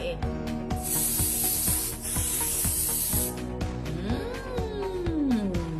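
A sunscreen mist bottle, newly opened, lets out a loud continuous hiss of spray lasting a couple of seconds, close to the microphone, over steady background music.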